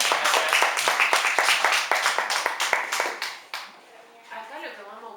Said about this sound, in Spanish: Bueno, vamos a darle un aplauso.